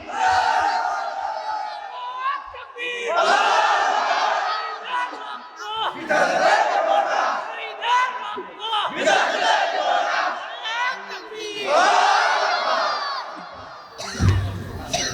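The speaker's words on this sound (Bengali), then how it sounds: "তাকবীর হবে, তাকবীর।" A large crowd at an outdoor religious rally in Kurigram, Bangladesh roars a takbir chant in loud, repeated surging waves of massed voices, sustained throughout with brief dips between shouts.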